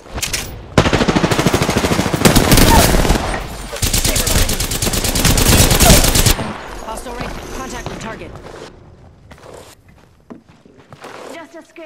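Automatic gunfire in the video game Apex Legends, loud sustained bursts for several seconds, then fading into scattered quieter shots and game sounds, with people talking over it.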